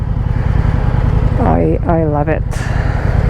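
A 2025 Indian Scout 101 motorcycle engine runs steadily with a low, continuous rumble while riding in traffic, mixed with wind noise, and a rider speaks briefly over it.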